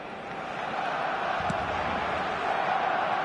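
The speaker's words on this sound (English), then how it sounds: "the crowd have tried to spark some excitement, but to no avail" Stadium crowd noise from the eFootball video game on PS4, a steady, broad roar of many voices holding at an even level throughout, with one brief louder swell midway and no distinct cheers.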